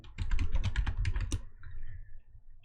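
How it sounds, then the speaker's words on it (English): Typing on a computer keyboard while entering text in After Effects, a quick run of close, crisp key clicks over about a second and a half, then a soft lull with faint background hum. "then type in our text"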